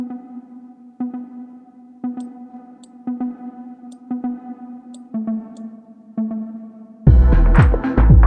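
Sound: slapback delay effect on synth pluck

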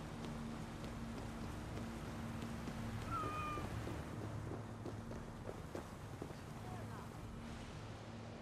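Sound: cat meowing in the video game Assassin's Creed Valhalla

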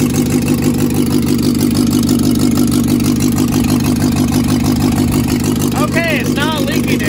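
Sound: 1961 Morris Minor pickup engine running

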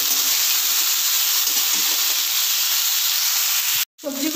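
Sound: vegetables frying in a pan

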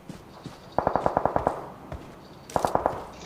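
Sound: gunfire in the video game PUBG Mobile

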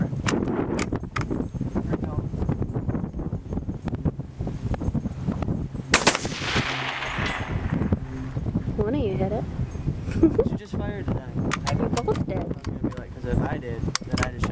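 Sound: Savage 17 HMR rifle gunshot

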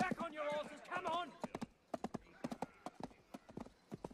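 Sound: horses galloping, hooves clip-clopping

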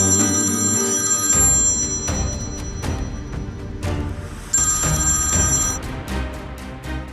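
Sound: telephone ringing

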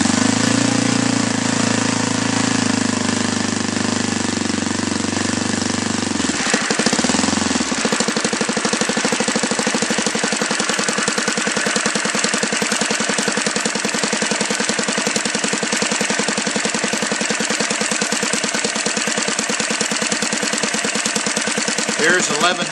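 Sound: Saito 180 four-stroke model engine running on spark ignition

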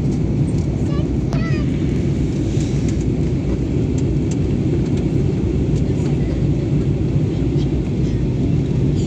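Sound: aeroplane cabin noise while approaching landing at Nagpur

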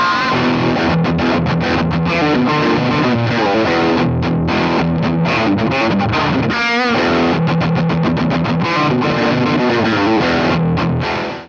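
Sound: electric guitar riff through effects pedals

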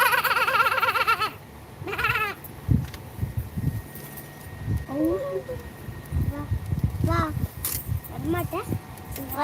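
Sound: baby goat bleating

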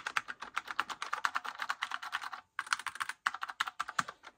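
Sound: typing on Apple desktop keyboard

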